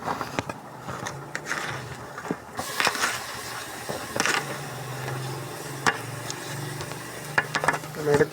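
Chopped tomatoes hitting a hot pan for mutton noodles, a steady sizzle with scraping and stirring clatters from a spatula, close and moderately loud, no talking.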